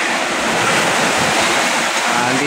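Rough ocean waves at Manila Bay in Navotas during a storm, a loud, continuous broadband wash of surf with wind rushing across the microphone.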